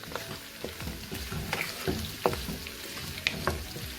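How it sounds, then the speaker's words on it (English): Onions frying in a pan for a vegetable and smoked turkey sauce, a steady low sizzle with scattered sharp crackles and stirring clatter, close and moderately loud, with no talking. "now we're going to let the onions cook a little bit"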